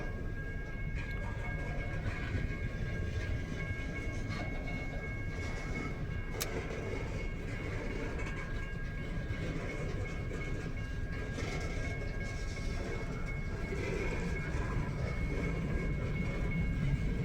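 A BNSF mixed freight train passes at night, with a continuous rumbling roar of rolling cars and wheels on the rails that stays steady and moderately distant for the whole stretch, without talk.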